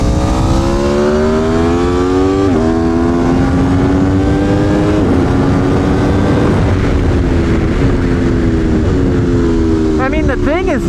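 An Aprilia Tuono V4 1100 Factory naked bike being ridden hard on a race track, its engine note climbing steadily through each gear with sharp drops at the shifts, loud and close, and a brief downshift burst near the end.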